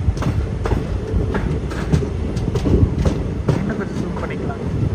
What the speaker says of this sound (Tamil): ட்ரெயின் எப்படி போயிட்டுருக்கு பாருங்களேன், பாம்பு மாதிரி